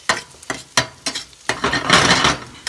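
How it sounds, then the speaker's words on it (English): Homemade spaghetti sauce with garlic stirred in a pot, a series of close, rhythmic scraping and clinking strokes against the pot, followed by a longer wet swirling scrape over a soft simmer. "And then a quick stir with this."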